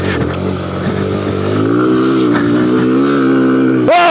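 A Grom or Z125 minibike on stock street tires labors off-road in first gear, its small engine buzzing loud and steady, pitch climbing slightly as it strains, ending in a sharp rev.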